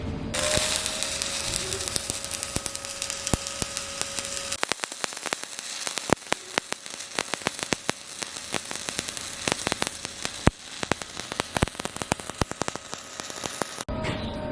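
Continuous crackling, sizzling arc of an SMAW stick welding repair pass on a 2G/3G test joint, dense popping and spitting held steady for about thirteen seconds, close and fairly loud with no talk.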